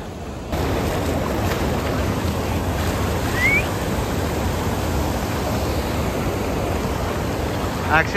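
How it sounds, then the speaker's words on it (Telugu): Steady, dense rushing of a waterfall fills the whole stretch, a constant roar without breaks; one faint chirp rises briefly partway through. "వాటర్ ఫాల్స్ అయితే సూపర్ ఉన్నాయి"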